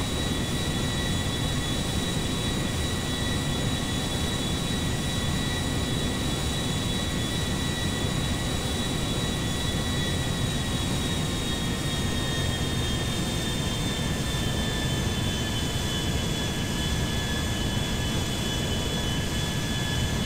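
A steady, loud airplane engine drone from the GTA 5 flight game, with a continuous jet-like roar and faint high whine lasting throughout with no talking.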